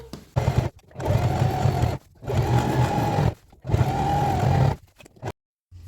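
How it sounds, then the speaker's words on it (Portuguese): A sewing machine topstitches a slit skirt in three steady, loud whirring runs separated by brief pauses, heard close up and alone. "agora eu vou passar aqui o pesponto"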